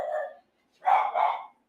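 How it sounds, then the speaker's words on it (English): A dog barks twice, a short bark and then a longer double bark, indoors and moderately close, with silence between them and no talk. "That is my dog."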